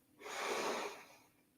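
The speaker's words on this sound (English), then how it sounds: "And breathing out." One slow, soft exhale during a relaxing yoga session, a gentle airy rush that swells and fades within about a second, close and quiet.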